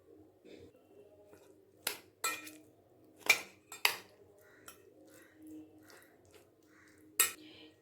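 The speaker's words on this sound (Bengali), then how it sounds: "এখন এর মধ্যে আগে থেকে তৈরি করে রাখা চিকেনগুলো আমি দিয়ে দেব।" Pre-cooked chicken goes into a bowl of shawarma bun filling: scattered sharp clinks and scrapes of a utensil against the bowl, irregular and close, with quiet stretches between them.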